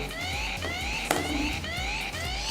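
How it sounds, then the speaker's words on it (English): A continuous electronic SOS alarm siren from a senior mobile phone sweeps up and down repeatedly at a steady, moderately loud level, with a brief click in the middle. "the siren is still ringing"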